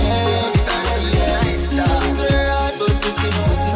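A song plays loud and alone, a steady rhythmic track with a punchy, regular beat and layered instruments throughout.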